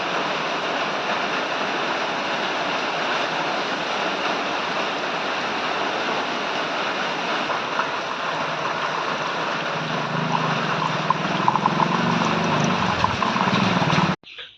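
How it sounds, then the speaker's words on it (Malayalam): Green Delphi coolant pours steadily into the radiator of a Maruti Suzuki A Star, a continuous splashing gush of liquid that runs for several seconds, deepens toward the end and then stops abruptly. "നമുക്കിനി കൂളൻ്റ് ഒഴിക്കാം."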